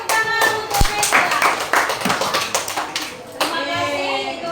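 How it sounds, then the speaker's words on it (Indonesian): Children in a primary classroom clap their hands in a short, uneven burst of claps with a few sharp taps, while young voices chatter over it nearby. "tepuk tangan untuk Reza."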